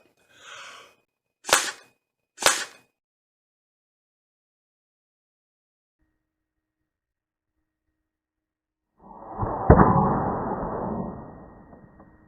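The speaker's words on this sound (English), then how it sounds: "That thing hit my stand and bounced back within a half a second." Two sharp, quick impacts as a small object blown through a trumpet strikes a metal music stand and bounces back, followed a few seconds later by a louder, broader rush of noise.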